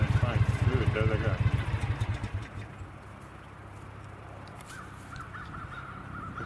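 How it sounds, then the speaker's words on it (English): A flock of crows cawing during a feeding frenzy, harsh calls overlapping in a loud burst for the first couple of seconds, then thinning to scattered, more distant caws over a quieter background. "this flock of crows seems to be in a feeding frenzy."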